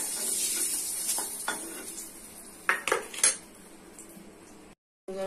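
Eggs stirred in a frying pan, with close metal scrapes and clinks of a utensil over a soft sizzle, a burst of sharper knocks near the end, then a brief silence.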